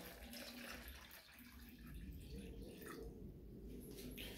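Water poured into a container holding banana to start an infusoria culture, a steady splashing and gurgling pour that is loud and close, with no speech over it.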